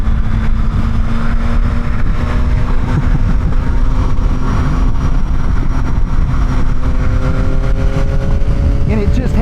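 A Yamaha XSR 900 motorcycle drones steadily while riding, its engine tone stepping through gear changes as it downshifts, with a rider speaking over the constant wind and engine noise.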